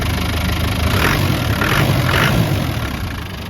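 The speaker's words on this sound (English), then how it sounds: "Engine is running nice and smooth" A 1994 Land Rover Defender 90 with a 200Tdi diesel engine idles steadily, a low, even rumble with a faint knocking texture, close and continuous without voices.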